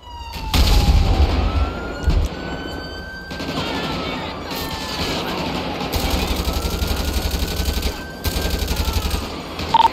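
Gunfire in a shootout in GTA V during a terrorist attack, with bursts of machine-gun fire and rapid shots in several loud volleys, while police sirens wail and an engine drones underneath.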